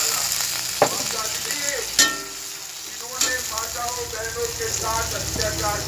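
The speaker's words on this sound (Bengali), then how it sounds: "এখন এই মশলাটা ছেড়ে দেব" Spice paste hits a hot pan for a potato and pointed gourd curry, giving a steady close sizzle and frying crackle with a few sharp clatters of a ladle or bowl against the pan, and no talk.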